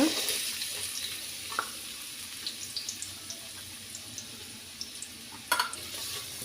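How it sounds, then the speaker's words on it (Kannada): Onions go into hot ghee for jeera rice and dal tadka, giving a soft, faint sizzle dotted with light pops and clicks of stirring, quiet and close, without talk. "ತುಪ್ಪ ಬಿಸಿಯಾಗಿದೆ ಇದಕ್ಕೆ ಆನಿಯನ್ ಹಾಕುವ"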